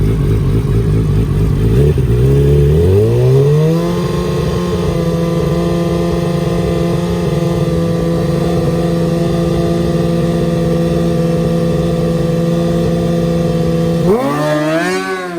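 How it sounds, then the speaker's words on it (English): A Kawasaki ZX-10 drag bike on a stock wheelbase, very loud and close, revving and climbing sharply through gears, then holding a steady high-pitched wail before a final rev burst at the end. "Wait till you see how Ricky works the gas and works the clutch on this finesse machine"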